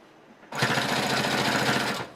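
A sewing machine stitches fabric for a pocket mask, starting abruptly and running in a fast, steady mechanical whir for about a second and a half before stopping, loud and close with no talk.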